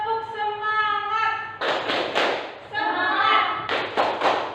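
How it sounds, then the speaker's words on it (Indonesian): Children clap in unison in two bursts of rhythmic claps, loud and close, after a sustained chanting voice. "Yuk, tepuk semangat."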